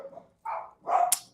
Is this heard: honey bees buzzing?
no